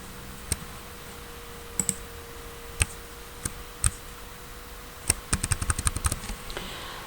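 Someone types on a computer keyboard, with sparse single clicks that speed up into a quick burst of keystrokes near the end. The sound is close and moderately loud over a faint steady hum.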